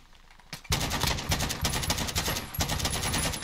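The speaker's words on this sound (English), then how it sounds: "I got this light machine gun, bro" Light machine gun firing in a shooter game: a sustained burst of rapid, evenly spaced shots after a short quiet start, loud and close, with a brief break before the fire resumes.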